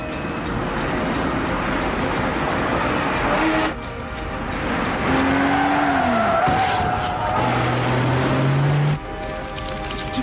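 Cars in a film car chase ram and skid, with loud engine roar, tire squeals and sweeping whines, a sudden cut to a different scene near the end, no talk.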